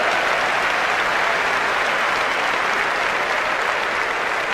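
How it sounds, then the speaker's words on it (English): A seminar audience claps loudly and steadily, a dense wash of applause that holds at an even level throughout. "Give her a round of applause"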